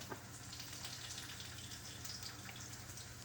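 Batter-coated chicken drumstick sizzling in a pot of hot oil, Jamaican home cooking, a steady close crackling hiss with bubbling texture over a low hum, continuous throughout with no talking.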